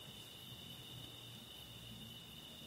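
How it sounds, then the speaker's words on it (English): Crickets chirping steadily in a valley at night, a thin continuous high trill, faint and distant under a quiet low rumble. "there's the sound of the crickets in the background"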